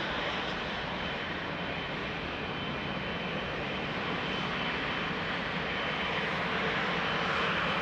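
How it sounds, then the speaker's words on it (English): Qatar Airways Boeing 777 freighter jet departing Amsterdam Schiphol, a loud continuous engine roar with broad rumble holding steady and swelling slightly toward the end, no voices. "Qatar 777 freighter, flight 8160 to Doha."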